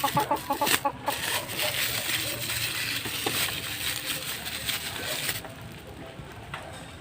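Chickens cluck in quick, close bursts amid scratchy rustling, with a few metallic clinks and a steady busy background.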